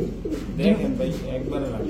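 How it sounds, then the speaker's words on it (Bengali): A Giribaz pigeon, a white-headed female, coos softly while being released amid close voices and speech. "ছাড়েন দিকে কবুতরটা, এটা হচ্ছে মাদিটা"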